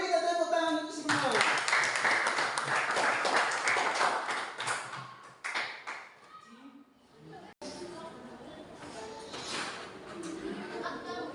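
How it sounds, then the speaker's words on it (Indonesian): A junior high school class claps together in a classroom, a burst of rapid hand clapping mixed with children's chatter that fades into a lull, after which voices carry on talking. "mari kita tepuk tangan untuk semua"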